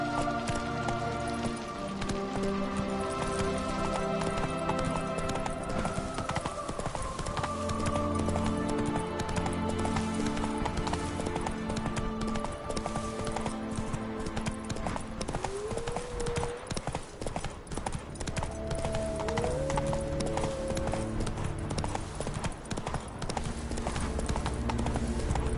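In a video game, the horse Roach trots with steady rhythmic hoof clip-clops over a bed of music and ambient rain, running continuously throughout.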